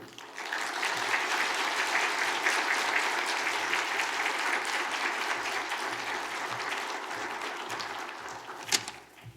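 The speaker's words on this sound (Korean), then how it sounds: "뜨거운 박수로 환영해 주십시오" Audience at a Korean church service applauding to welcome a pastor, steady warm clapping from a crowd throughout, with a single sharp louder clap near the end.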